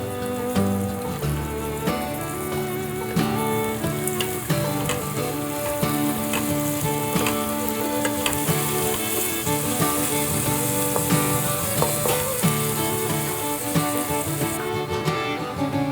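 Golden onions fry in oil with fresh mint and coriander for mushroom biryani, a steady close sizzle and crackle with scattered clinks of a spoon stirring the pan.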